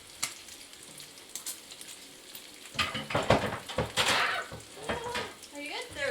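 Bacon frying in a pan on a stove, a steady crackling sizzle with sharper pops and bursts that grows busier partway through, heard up close alongside some clattering.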